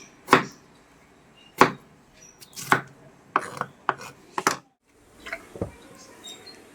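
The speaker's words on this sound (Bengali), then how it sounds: "তার জন্যে আলুটা কেটে নিই" A knife chops potatoes on a board in a home kitchen while paneer and greens are cooked, giving sharp, close, separate strikes in an uneven rhythm, with several quick cuts bunched together and short pauses between.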